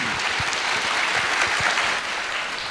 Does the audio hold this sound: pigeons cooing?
no